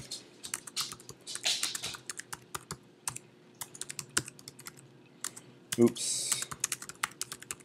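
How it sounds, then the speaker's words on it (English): Rapid clicking of computer keyboard keys being typed to enter a comment, close and fairly steady, with a brief spoken interjection partway through. "So you could type in a comment"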